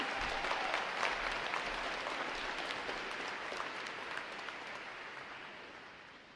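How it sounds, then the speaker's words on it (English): A large crowd of friends and families applauding at a U.S. Navy boot camp graduation ceremony, continuous dense clapping that holds steady, then slowly fades toward the end. "Divisions, how about a round of applause for all our friends and families that are here?"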